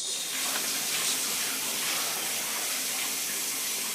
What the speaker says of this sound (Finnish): Koska minun pitää käydä nyt suihkussa.